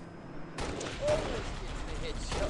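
In the video game Halo: Reach, gunfire and a headshot come through as muffled, booming shots over a continuous game-sound background. Commentary talk runs faintly alongside.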